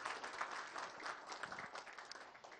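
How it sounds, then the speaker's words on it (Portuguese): A seated audience at a leadership and emotional-control talk claps together in a brief, fairly faint burst of applause, the dense patter holding steady for a couple of seconds. "Palmas para vocês."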